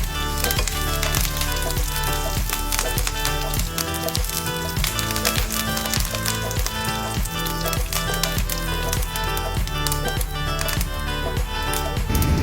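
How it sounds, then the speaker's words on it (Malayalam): Mustard seeds, cumin, garlic, curry leaves and dried chillies fry in hot oil for a Kerala-style goat curry, making a loud, continuous, dense sizzle with a crackle throughout. "എണ്ണ ചൂടായതിനു ശേഷം അതിലേക്ക് ഇവയെല്ലാം ഇട്ട് ഒന്ന് വഴറ്റുക"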